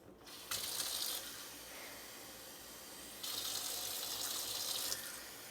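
A kitchen tap runs water into a cup in two bursts, a steady hiss starting and stopping, then starting again a couple of seconds later, with no talk.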